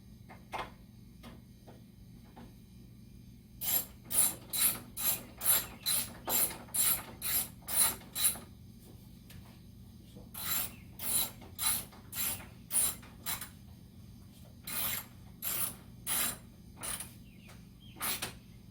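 A ratchet tightening hood bolts on a Scion xB clicks in close, rhythmic bursts of strokes, a few sparse clicks first, then steady runs of sharp ratcheting pulses separated by short pauses.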